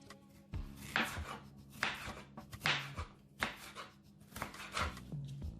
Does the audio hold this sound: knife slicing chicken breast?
yes